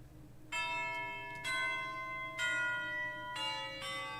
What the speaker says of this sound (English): Okay, tubular bells. Where's my tubular bells?